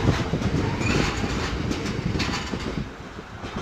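A train rumbles past a level crossing at Boultham, a loud, dense roar of wheels and carriages with rhythmic clatter that eases slightly toward the end.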